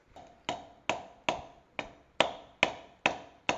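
Sharp, evenly spaced taps strike roughly every 0.4 seconds as a drive shaft boot on an Audi S5 is knocked into place, each hit crisp and close with a short ringing decay, no talking.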